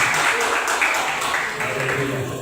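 A church congregation at an evangelical service claps in praise, a dense wash of many hands running steadily beneath a preacher's continuous speaking voice.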